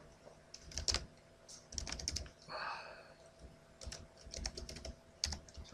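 Keys tapped on a computer keyboard while logging in to an account, bursts of quick clicks with short pauses between them, fairly close and moderately quiet, with no talking.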